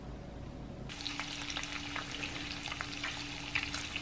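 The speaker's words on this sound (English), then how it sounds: "There's our bacon sizzling away on the stove." Bacon sizzling and crackling in a pan, a dense steady hiss with scattered pops, close and fairly loud.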